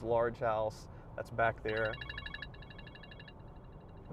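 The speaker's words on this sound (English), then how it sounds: "Sorry about the phone ring." A telephone rings with a repeated electronic trill, starting after speech and continuing in short bursts through the rest of the clip, moderately loud beneath a voice describing homes along a road in Mobile, Alabama.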